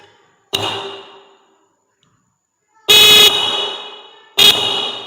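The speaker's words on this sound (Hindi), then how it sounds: "अब देख सकते हैं हमारा कितना लाउड चल रहा है ये हॉर्न।" A 12-volt electric horn mounted on a bicycle gives three loud, close honks: one short blast, a pause, then two more blasts, each ringing briefly before cutting off.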